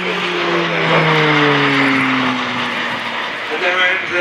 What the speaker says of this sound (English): Single Pratt & Whitney and a PT-6A turboprop of 950 shaft horsepower driving this machine.